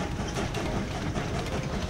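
A train rolls into its base in the Train Valley video game, giving a steady, dense rumble with a clattering rail texture throughout, loud and unbroken, with no voices.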